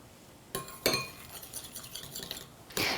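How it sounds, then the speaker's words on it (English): A spoon stirs an Italian dipping sauce made with essential oils in a dish, giving a few sharp clinks and a scraping rattle against the bowl, close and clear. "Then we're gonna give it a nice stir."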